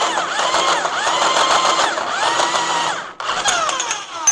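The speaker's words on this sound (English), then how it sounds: "This isn't a very high-tech tube bender, so you'll see this thing's gonna kind of wind off a little bit." A manual tube bender works steel tube for a 1957 sand rail, giving a steady, close mechanical whir that rises and falls in repeated strokes. It pauses briefly near the end, then resumes, with no talk over it.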